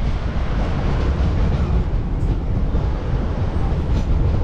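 A local train runs from Bagdogra toward Siliguri Junction, giving a loud, steady rumble and roar of rolling wheels heard from inside the carriage, with no talking.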